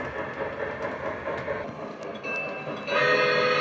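A model railway train rumbles steadily along the track nearby, with a horn sounding toward the end over the continuous rolling noise.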